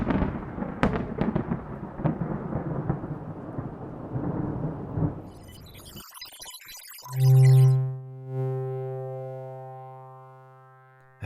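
A thunderstorm sound effect opens with rolling thunder and hissing rain for about six seconds, then gives way to loud, sustained electronic tones that fade slowly.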